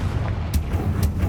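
A Confringo fire spell cast in Hogwarts Legacy lands as two quick, heavy booms with crackling blasts, about half a second apart, over a low rumbling backdrop.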